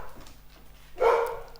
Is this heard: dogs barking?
yes